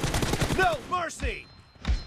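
A voice talks briefly, then two sharp gunshots from a video game crack out about a second apart, near and distinct.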